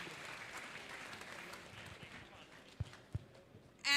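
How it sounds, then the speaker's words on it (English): Audience applause for a panelist at a knowledge, innovation and talent acquisition summit, a faint, steady patter of clapping that thins out, with a few sharp knocks near the end. "Please give a big clap to him."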